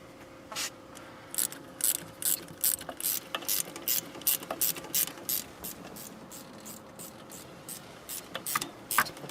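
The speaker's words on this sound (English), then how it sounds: "Probably a little faster with the electric ratchet." An electric ratchet works on a Powerstroke diesel boost tube boot repair. It runs in repeated short, loud mechanical zipping bursts separated by brief pauses, with a faint steady hum underneath and no talking.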